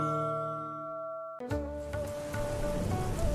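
Rain falling as a sound effect, a steady hiss of drops that starts abruptly after a short sustained tone and continues at moderate level to the end.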